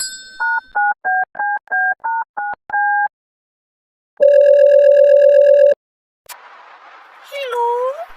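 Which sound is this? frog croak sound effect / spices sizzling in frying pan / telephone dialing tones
telephone dialing tones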